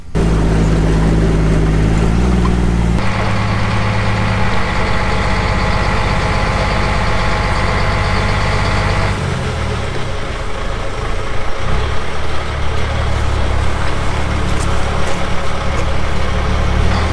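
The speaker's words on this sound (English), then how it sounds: "the stock truck is just driven down the road" A stock truck engine runs steadily and loudly at close range, a constant droning rumble whose pitch shifts a few times.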